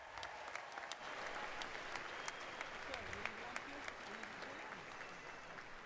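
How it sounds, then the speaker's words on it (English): Crowd at a spring university commencement ceremony claps continuously, a dense wash of many hands, moderately distant and fairly quiet, with faint murmuring underneath. "Please give these people a round of applause."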